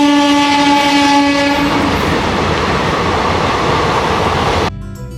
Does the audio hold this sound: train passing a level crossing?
yes